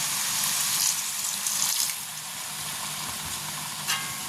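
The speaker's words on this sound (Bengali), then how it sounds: "এবার এর মধ্যে একটু জল দিয়ে দেবো" Khesari greens frying in a pan as water is poured in, giving a steady close hiss and sizzle with a brief louder splash and stirring scrapes, no voices.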